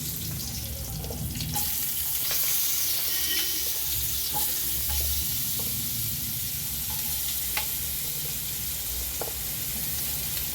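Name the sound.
potatoes frying in hot oil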